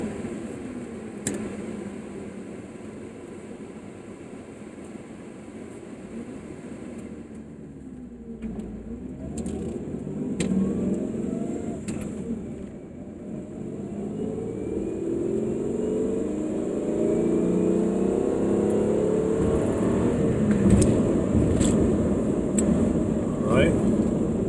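A 1991 Nissan Maxima SE with a five-speed manual drives with its windows rolled up. The engine hums and rumbles steadily inside the cabin, briefly easing off before building again as it accelerates.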